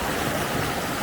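Running water of Lingmell Beck tumbling over rocks in wintry Wasdale in the Lake District roars as a loud, constant broadband rush, close by and steady with no talk.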